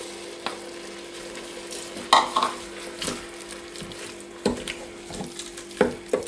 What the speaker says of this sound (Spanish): entonces es el momento de echarle la cebolla. Y el pimiento